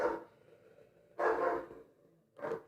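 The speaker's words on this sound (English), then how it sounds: "Boy, the dogs are making some kind of noise." Dogs barking indoors, three loud gruff barks spaced irregularly, the middle one longest, fairly close with no talking over them.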